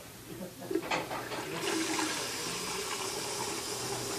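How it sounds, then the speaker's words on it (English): Water is poured into a sangria ice cream mixture. A few small clinks come first, then a steady gushing pour runs to the end at low volume. "And then we're going to add 40 ounces of water, which is a quart and a cup, right?"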